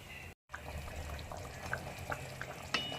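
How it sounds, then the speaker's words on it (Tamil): Fish curry (meen kuzhambu) simmers in a pot with its oil separating on top, giving faint, soft bubbling with scattered small pops and no talking. "குழம்பு நல்லா கொதித்து வத்தி வந்துருச்சு எண்ணெயெல்லாம் நல்லா பிரிஞ்சு வந்துருச்சு"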